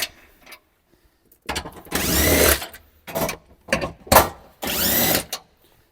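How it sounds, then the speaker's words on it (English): A power tool removes frame bolts inside a Toyota Prado 250 in several separate bursts of whirring, each lasting about half a second to a second, with short quiet gaps between them. "we're going to take all these bolts out that are hold the frame in"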